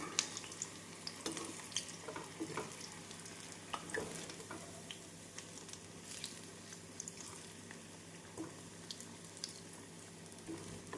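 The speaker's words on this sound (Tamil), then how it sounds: "அனைத்து வெங்காய மிக்ஸையும் இப்படி உருட்டிய பின் சூடான எண்ணெயில் பொரித்து எடுத்து விடலாம்." Onion bhaji balls frying in hot oil over a medium flame, a faint continuous crackling sizzle with scattered small pops and bubbling, no talking.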